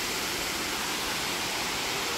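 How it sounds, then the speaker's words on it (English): A waterfall near Ellijay, Georgia, heard as a steady, broad roar of rushing water, constant and full with no breaks and no voices over it. "There's the waterfall down there"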